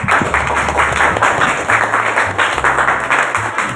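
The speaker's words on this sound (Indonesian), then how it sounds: "Boleh tepuk tangannya yuk." Students clapping in a university classroom during a mathematics teaching session, a lively round of hand claps with a low hum and some background noise running underneath.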